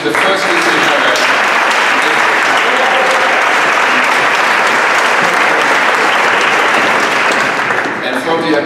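A large audience claps warmly at a spring opening ceremony with a flag parade, a dense, sustained wash of applause that stays loud throughout and eases slightly at the very end.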